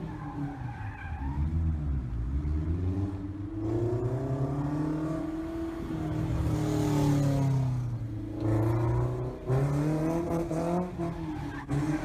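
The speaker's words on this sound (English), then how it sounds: "this car's not only fantastic exhaust note from the variety of powertrains offered, but also showing off some pretty cool rear-wheel drive mid-engine donuts" A Factor Aurelio rear-wheel-drive mid-engine supercar revs its exhaust while doing donuts, the engine note rising and falling in repeated sweeps with tire squeal, loud and close throughout.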